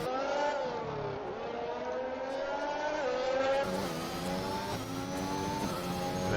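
Race cars circling the track in the video game F1 2021, Brazil round, a continuous high-pitched engine whine that rises and falls with gear changes, heard alone at moderate volume.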